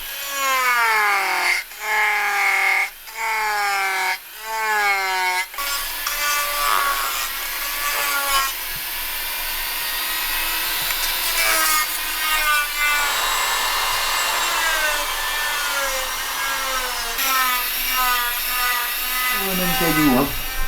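A saw cuts through stone with a continuous rasping, grinding drone. It is loud and close, and the rhythm of the strokes shifts as the cut goes on.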